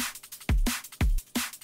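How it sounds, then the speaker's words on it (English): A drum and bass pattern with a deep, booming kick and a snappy, clap-like snare on the backbeat, played alone as clear, punchy hits over busy hi-hat ticks. "it's just a normal drum and bass pattern, nothing crazy going on there."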